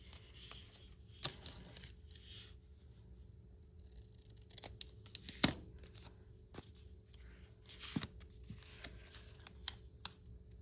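Scissors snip across a Daphne's Diary magazine page for a junk journal, with scattered sharp close cuts and paper rustles over a quiet background.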